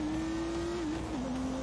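A BMW M3 engine in The Grand Tour Game drones at a steady, loud pitch, holding level, then dipping briefly near the end as if shifting gear or lifting, with no talking over it.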